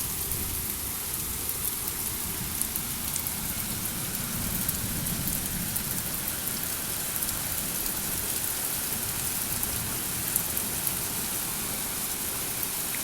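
Steady rain pours down, a continuous dense hiss of drops on surfaces with no voices.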